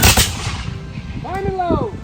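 A close, loud musket volley fired on command, one heavy booming crack that rolls away into a rumbling echo, followed by faint whistling and fluttering tones under it.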